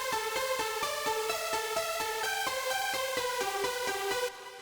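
A bright synthesizer pluck lead from a progressive house track plays a quick, evenly pulsing melodic pattern of short notes, clear and alone, before cutting off near the end.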